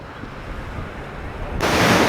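Surf rolling onto a Lake Michigan beach as a steady broadband wash, growing louder and brighter near the end, with wind buffeting the microphone.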